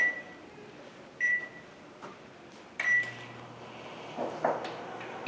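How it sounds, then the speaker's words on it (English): A microwave oven heating grapes beeps several times as buttons are pressed, with clicks and a door-like clunk, then settles into a faint low hum, all quiet and close with no talk. "So for our grapes, we're going to microwave them for about 20 seconds."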